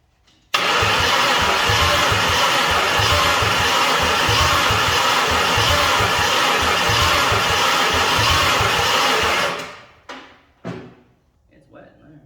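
A 1929 Ford Model A engine cranks over loudly on the starter in a long steady churning burst for about nine seconds, then stops, followed by a couple of short sounds; voices are also heard.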